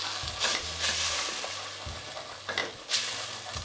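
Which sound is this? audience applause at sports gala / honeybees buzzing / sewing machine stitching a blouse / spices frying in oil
spices frying in oil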